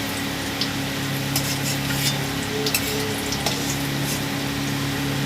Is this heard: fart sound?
no